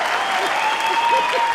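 Audience applause at a Hindi comedy poetry gathering (hasya kavi sammelan), steady and fairly loud for a short burst, with faint voices underneath.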